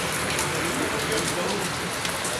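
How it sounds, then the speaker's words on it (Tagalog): Steady monsoon rain falling and pattering on a surface, a dense continuous hiss with no pauses. "Ayan, araw-araw umuulan no."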